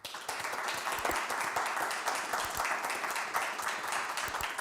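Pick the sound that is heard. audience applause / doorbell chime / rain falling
audience applause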